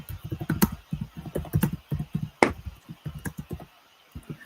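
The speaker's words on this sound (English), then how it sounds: "He's busy typing." Someone types on a computer keyboard nearby, producing rapid uneven bursts of clicky keystrokes with short pauses and one sharper louder key hit partway through.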